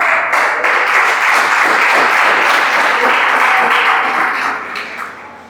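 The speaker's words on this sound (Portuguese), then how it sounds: "Pode se assentar e glorifique o Senhor com as palmas." Church congregation clapping during a worship service, a loud, steady wash of many hands close by that holds for several seconds, then thins and fades toward the end.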